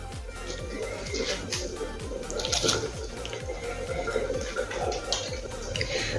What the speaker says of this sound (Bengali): এখন এই গরম জলের মধ্যে চালটা দেবো